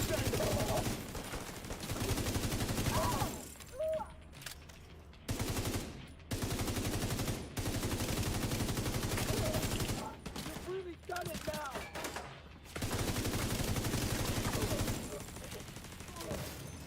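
Sustained automatic fire from a PDR gun in a video game, loud rapid bursts running nearly the whole time with a few short pauses between strings of shots.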